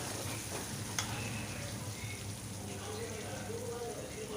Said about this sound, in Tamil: இப்போ நல்லா ஒரு கிளறி விட்டுக்கலாம்